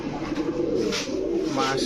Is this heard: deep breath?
no